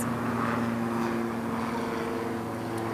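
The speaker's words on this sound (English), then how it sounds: "pretty loud helicopter above us, not sure if you can hear it" A helicopter flies overhead, its steady rotor and engine drone loud and continuous with a low tonal hum, no voices over it.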